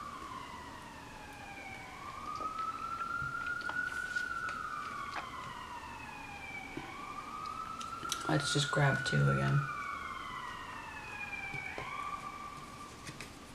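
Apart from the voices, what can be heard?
ambulance siren outside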